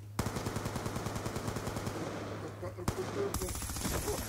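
Rapid automatic gunfire in the video game Black Ops 2, loud regular bursts of shots at close range with a brief pause and a sharp single blast before firing resumes.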